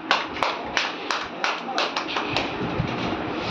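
A group of schoolchildren claps hands in an irregular series of sharp, close claps during a classroom counting game, with a busy room noise underneath.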